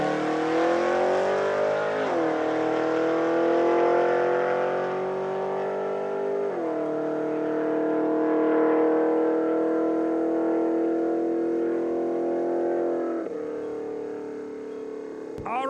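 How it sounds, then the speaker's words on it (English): A 1982 Camaro makes a drag racing test pass, its engine roaring loud and steady with three sharp gear-change drops as the revs climb again after each shift, running continuously throughout. "Barbara Stettner out of Regina making a test pass, the 82 Camaro"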